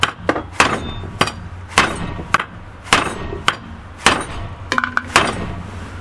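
A hammer clouts a piece of metal to work harden it, the blows falling in a steady, loud rhythm of sharp, ringing impacts with a slight metallic clink, about a dozen strikes and no talking.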